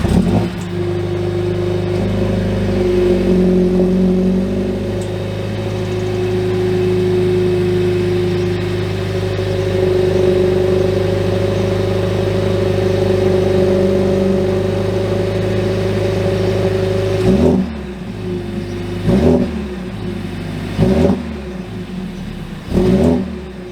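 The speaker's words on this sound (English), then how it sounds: "once you turn it on in normal mode, the engine's okay, it sounds good" Car engine running in normal mode, a close, loud steady hum holding for most of the stretch before a series of four quick sharp revs near the end, no voices present.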